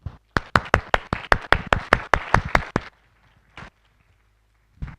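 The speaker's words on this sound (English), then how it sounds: "Please join me in giving her a round of applause." A single person claps about a dozen times in a quick steady rhythm, close and crisp, then it falls quiet apart from a couple of faint stray claps and knocks.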